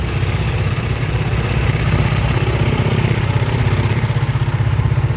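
A motorcycle engine idles steadily at a rest stop on a sunny day, a low, even chugging pulse that stays close and constant throughout with no voices over it.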